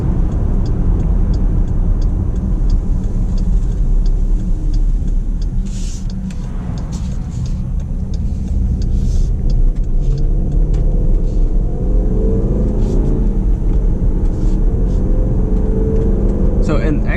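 A 2019 Jeep Grand Cherokee Overland with the 5.7L Hemi V8 driving in eco mode, heard from inside as a steady low engine and road rumble throughout, with faint clicks above it.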